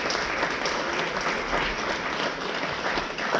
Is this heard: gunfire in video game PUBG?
no